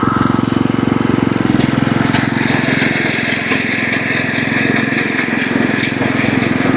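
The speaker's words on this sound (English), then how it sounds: "Mostly in this area right here where I'm mowing right now." A lawn mower runs steadily while mowing grass, its loud, close, continuous engine drone holding an even rhythmic chug throughout with no pauses.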